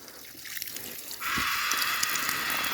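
Water from an IBC tank on a watering timer starts flowing partway through, a soft trickle turning into a steady, fairly close stream of running water.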